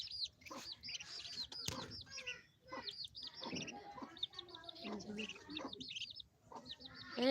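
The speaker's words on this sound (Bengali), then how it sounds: "আমরা মুরগির বাচ্চা ফুটিয়েছি দেখো একটা তার মা এখানেই আছে" A hen clucks near her newly hatched chicks in a rural village yard, with repeated soft clucks and high, thin chick peeps chirping steadily throughout, close and clear over faint background noise.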